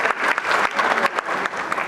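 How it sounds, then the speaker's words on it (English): Audience at the Ghana CEO Summit, a business conference, giving a round of applause: loud, dense clapping across a large hall in short surging bursts, with no speech over it. "Ladies and gentlemen, one more time, a round of applause."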